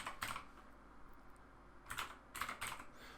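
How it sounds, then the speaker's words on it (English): Keystrokes on a computer keyboard, with a short burst of several keys followed by a pause and then a second quick run of clicks, close and clear with no talking. "start typing state machine"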